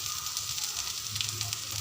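Bottle gourd peel frying in a pan, giving a steady, even sizzle of hot oil that carries on without a break, close and moderately loud with no one talking.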